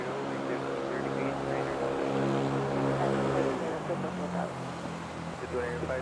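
A Boeing 777 airliner at Manila airport gives a steady, loud jet engine roar that continues throughout, with tonal whine bands shifting partway through and radio chatter in the background.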